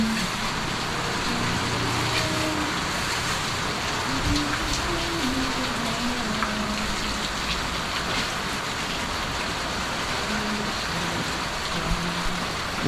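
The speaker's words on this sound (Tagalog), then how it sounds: "Ay, walang tigil ang ulan." A long, unbroken downpour of heavy rain at a tiling job site, with a loud, even hiss and a faint low rumble underneath, and no voices.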